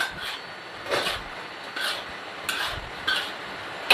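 Several scraping, stirring strokes of a utensil tossing liver in a hot wok, roughly every second, close and moderate in loudness with no talking.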